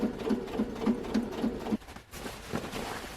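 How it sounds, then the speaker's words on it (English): A sewing machine stitches two fabric tabs of a custom flight suit together, running in a close, even rhythmic patter for under two seconds before stopping, followed by quiet handling noise. "now I'm going to sew these two tabs together, which should close off the crotch."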